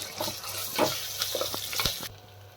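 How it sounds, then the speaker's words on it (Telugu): Ginger-garlic paste and turmeric are stirred in hot frying oil, a soft close sizzle with quick spoon scrapes and light taps over a couple of seconds. "ఇప్పుడు దీన్ని మనం మంచిగా మిక్స్ చేసుకోవాలి"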